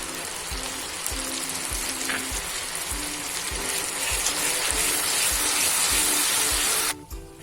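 Tomato puree poured over onions frying for rajma gives a loud, dense sizzle close by. A regular low thumping runs underneath, and the sound cuts off abruptly near the end. No speech.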